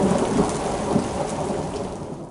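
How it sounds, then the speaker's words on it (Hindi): Cartoon thunderstorm effect with heavy steady rain and rumbling thunder, loud and continuous throughout, with no voices. "तूफान आने लगा।"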